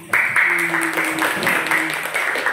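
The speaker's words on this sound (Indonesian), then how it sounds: "Tepuk tangan buat semuanya." An audience applauds presenters with a dense wash of clapping that starts suddenly and stays steady and fairly loud, with voices and a few tonal sounds mixed in underneath.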